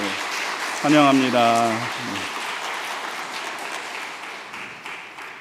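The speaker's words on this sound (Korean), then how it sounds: "우리 박수로 환영하도록 하겠습니다" Church congregation applauding during a Sunday morning service to welcome newly registered members, steady clapping throughout while someone briefly speaks over it near the start.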